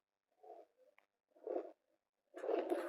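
Three low, soft cooing bursts from pigeons, separated by short pauses, the last one louder and longer, with no talking.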